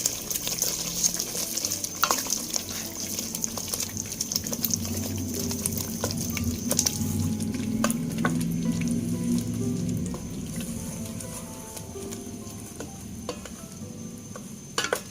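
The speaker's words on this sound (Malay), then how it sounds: "Tumis sampai daging ni masak." Minced meat sautés in hot oil with a continuous close sizzle and bubbling, and a spatula stirs and clicks against the pan now and then.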